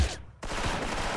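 Video game gunfire: a quick burst of shots, a brief gap, then dense continuous firing close up, with no talking.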